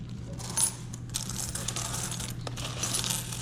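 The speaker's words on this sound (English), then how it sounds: "So I gotta sit here and separate all those coins." Silver dime coins clink and jingle as they are dropped during sorting, a run of bright metallic taps close by, with one louder clatter near the start and no talk.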